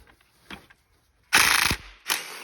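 Ratchet wrench turning out a 10 mm bolt on a 2014 Ford Fusion 1.5L engine during teardown, a few faint clicks followed by two loud, close bursts of rapid ratcheting with no voice.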